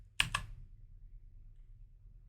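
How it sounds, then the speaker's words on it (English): Two quick keyboard clicks from typing on a computer keyboard, close and crisp, followed by near silence with only faint room noise. "So I'll start typing in my status"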